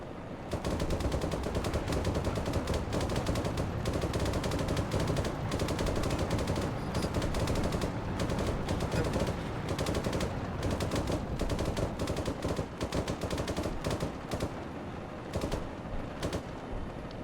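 Sustained automatic fire from an Abrams tank's coaxial machine gun in a tank combat game, loud rapid bursts rattling almost continuously for the whole stretch with only brief gaps.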